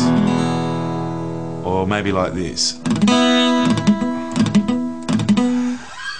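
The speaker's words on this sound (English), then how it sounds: "Now strum down over all the strings." An acoustic guitar chord rings out, then several quick strums follow in a loose rhythm, with a person speaking briefly over the playing.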